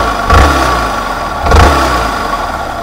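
Yamaha MT-15 motorcycle engine with its muffler covered, heard up close as two short revs roughly a second apart over a steady idle hum.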